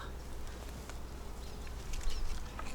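Honeybees buzz steadily at an open hive in a South Carolina apiary, a continuous close hum with small swells in loudness and no talking.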